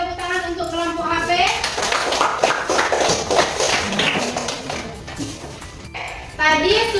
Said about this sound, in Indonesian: Ayo beri tepuk tangan untuk kelompok HP.